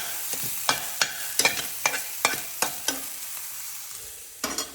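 Chicken soup ingredients stirred as they fry in a pan, a sizzle broken by about a dozen sharp scraping strokes of a spoon in an uneven rhythm, close and clear with no voices.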